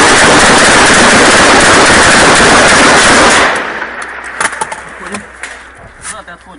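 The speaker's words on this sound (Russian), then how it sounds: "Вот, видишь здание, прям по зданию стреляй." Heavy machine gun on an MT-LB armored vehicle fires a loud sustained burst at Donetsk airport, then scattered distant gunfire and shouting voices follow.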